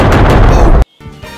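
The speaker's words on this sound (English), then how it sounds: "Let's see how many airstrikes I can handle." Airstrike explosions in a Gorilla Tag video game mod, a loud, close, rumbling blast that roars continuously for under a second, cuts off abruptly into silence, then a fainter rumble follows.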